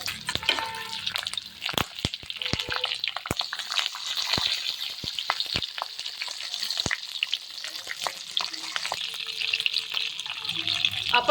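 Stuffed green chillies frying in very hot oil, a continuous crackling sizzle sprinkled with sharp pops and spatters, steady and close, no talking.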